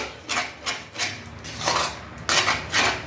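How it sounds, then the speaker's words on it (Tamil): Rice flour dough for idiyappam being stirred hard in an iron pan: repeated rough scraping strokes, about five in a loose rhythm, close and fairly loud, with no talking. "நல்லா கை விடாமல் கிளறிட்டே இருந்தால் கட்டியெல்லாம் உடஞ்சிடும்"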